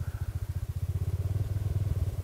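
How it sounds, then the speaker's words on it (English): A sport bike motorcycle rolls in with a low, loping engine pulse, a steady rhythmic throb that sounds fairly close and holds evenly through the short stretch without any speech over it. "A sport bike just rolled in."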